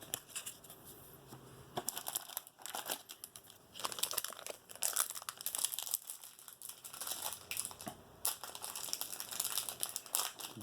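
Crinkly plastic wrappers of 1991 Traks trading card packs crackle and tear as they are opened, with dense bursts of crumpling and ripping in irregular spurts, close up and fairly loud, with no voices.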